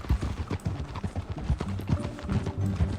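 Horse hooves clip-clop steadily in Red Dead Redemption 2 as a rider sets off, a quick repeating rhythm close by with no talk over it.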